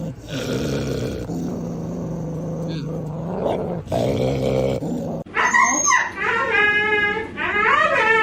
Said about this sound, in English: You whisper bark.